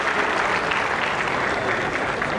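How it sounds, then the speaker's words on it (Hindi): Steady applause fills the hall as a guest is welcomed at the Lal Quila Kavi Sammelan poetry gathering, a dense, continuous wash of many hands clapping with no voices on top. "श्री एन.के. शर्मा जी का, तालियों से स्वागत"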